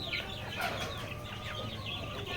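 Chickens at a poultry farm cluck in a dense, continuous chorus of many birds close by, with sharper calls rising over the flock noise and no voices.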